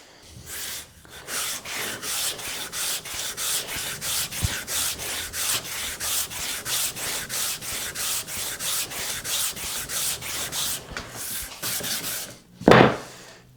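Pallet wood guitar parts rubbed back and forth across a dead-flat stone, a steady rhythmic sanding stroke repeating about twice a second for most of the stretch, close and fairly loud, ending with a brief louder scrape.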